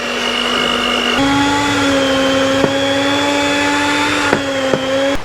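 An electric hand mixer kneads pizza dough in a bowl, a loud, close, steady motor whine with its pitch shifting slightly and a few brief knocks as the beaters hit the bowl. No one speaks.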